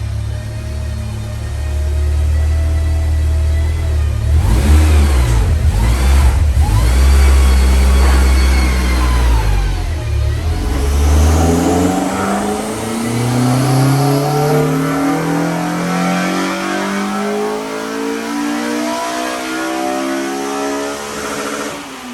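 A K20-swapped Honda Civic EJ9 revs hard on a dyno, the engine roaring loud and close as it climbs through the rev range, drops off, then sweeps up again in long rising pulls.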